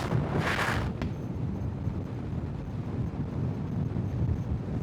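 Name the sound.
headwind blowing while riding a motorcycle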